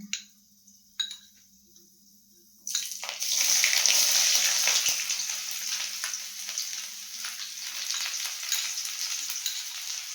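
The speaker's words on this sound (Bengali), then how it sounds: "রসুনটা দিয়ে দিলাম, রসুনটা লাল হয়ে ভেজে একটা কালার হয়ে গেলে তারপরে সিমটা দিয়ে দেবো।" Garlic added to hot oil with fried black cumin in a pan hits with a sudden loud sizzle after a quiet start, then keeps frying steadily with crackling and spatter; no one talks.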